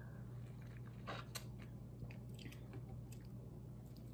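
A lemon wedge being bitten and chewed up close: quiet, wet, squishy chewing with a few small crunches and juicy smacks, faint against a steady background hum.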